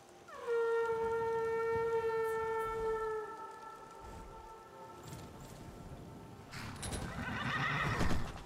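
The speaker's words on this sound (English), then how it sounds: "so I can call my horse" A horse whinnies loudly in Skyrim, called by the player: one long, descending neigh with strong harmonics, followed by quieter clip-clop hoofbeats and a closing snort or rustle.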